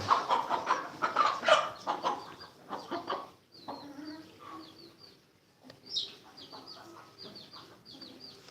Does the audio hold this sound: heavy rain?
no